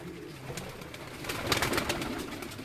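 Domestic pigeons, including a large Cheena pigeon, coo and rustle in a fancier's loft in Islamabad, giving a soft murmur that swells into a denser burst of cooing and fluttering near the end.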